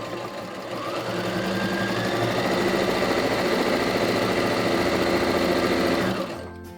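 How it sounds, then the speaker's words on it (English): A sewing machine runs in one steady, close-up burst of stitching for about six seconds as it sews around the fabric edges of a reversible tote bag, then stops. "The next step is to stitch around these edges."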